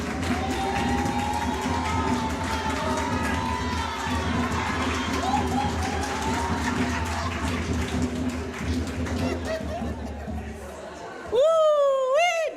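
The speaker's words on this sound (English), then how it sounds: "A warm round of applause." An audience at a cultural event and intergenerational dialogue claps and cheers for the next speaker, a mayor, with a crowd roar and voices mixed in before a lone voice rises clearly near the end.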